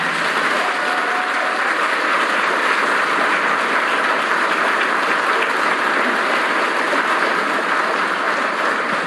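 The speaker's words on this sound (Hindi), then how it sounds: "एक बार अपने लिए ताली बजा दो।" A large seminar audience applauds steadily and loudly throughout, a dense continuous wash of clapping with no pauses, with a faint crowd murmur mixed in.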